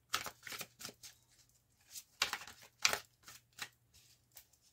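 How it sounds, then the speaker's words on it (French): Tarot cards shuffled by hand, heard as a series of close, crisp riffling bursts and soft slides at an uneven pace, with no talking over them. "on va bien passer les cartes"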